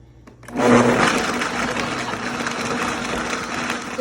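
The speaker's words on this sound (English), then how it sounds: "if you have a pulse setting on the blender, that actually helps mix it around a little bit better as well." Blender whirring as it mixes raw dog food with goat's milk, starting after a brief pause with a loud, steady grinding roar that holds for several seconds without a break.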